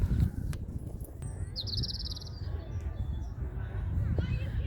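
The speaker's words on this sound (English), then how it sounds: "I stopped for this little bird." A small bird sings in a London park in early spring, bright chirping phrases rising over a soft, steady outdoor background with faint insect-like buzzing.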